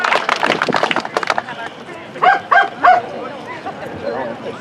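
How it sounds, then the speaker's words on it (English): A dog barks a few times in quick succession at moderate distance at an outdoor rally, following a stretch of someone speaking loudly. "Dog's barking."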